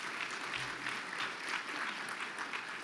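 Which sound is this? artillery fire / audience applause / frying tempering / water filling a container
audience applause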